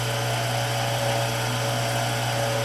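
Steady drill bit boring a straight hole while making cam bearing installation tools for a Farmall Super M engine, a continuous loud motor whine with a low hum, unbroken for the whole stretch with no talk.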